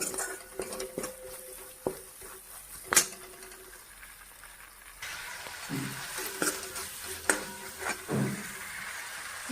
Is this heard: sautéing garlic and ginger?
yes